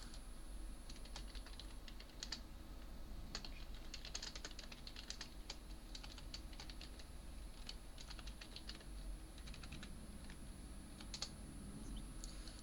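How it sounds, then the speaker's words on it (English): Computer keyboard typing a title into a PowerPoint slide, quick irregular bursts of light key clicks, faint and close, with no talk. "I'm going to type in the title on the first slide."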